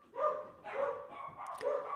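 Dogs bark indoors in a quick series of four or five moderately loud, close yaps and woofs, one after another.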